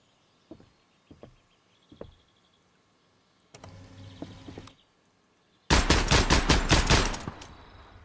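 Gunfire in the video game Gunsmith Simulator: three separate shots spaced about a second apart, then a short rattling volley, then a loud sustained burst of rapid automatic fire. No talking.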